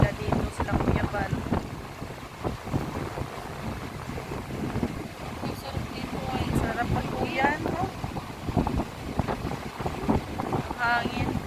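Steady wind gusts buffet the microphone by the sea, a constant rushing roar under people chatting nearby.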